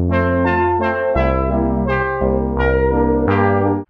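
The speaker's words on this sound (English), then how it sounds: "so far I have this bass line, that chord pad sound, and that horn sound that we have in the intro and outro." Roland SH-101 synth playing a bass line with a chord pad and a horn-like lead layered on top, a full, loud passage of rhythmic notes with no voice.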